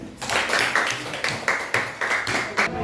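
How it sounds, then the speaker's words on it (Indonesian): Classroom applause for student group 3 after a presentation, with several hands clapping in uneven bursts close by, fairly loud, and a faint voice briefly mixed in. "silahkan beri tepuk tangan untuk kelompok 3"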